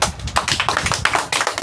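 Children in a classroom clapping together during a lesson, a quick burst of several uneven, close claps over about a second and a half.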